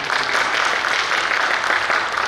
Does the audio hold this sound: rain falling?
no